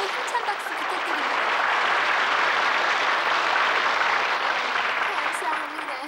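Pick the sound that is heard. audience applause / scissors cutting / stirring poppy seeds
audience applause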